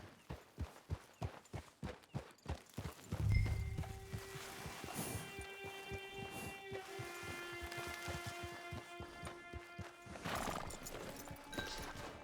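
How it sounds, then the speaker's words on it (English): Horse hooves clip-clop in a steady, close walking rhythm in the Red Dead Online video game, then a loud neigh breaks in, followed by lighter hoof steps under a sustained musical drone and a second whinny near the end. "Get your horse."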